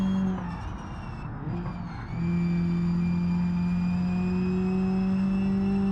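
A race car in BeamNG Drive on the Nürburgring runs at wide open throttle, a steady loud engine drone holding a high pitch that climbs slowly after a brief dip.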